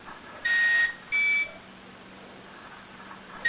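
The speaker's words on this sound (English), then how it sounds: "So it starts beeping." Two electronic beeps from a Bob TV time manager sound in quick succession, each under half a second, fairly loud over a quiet background hiss, then silence.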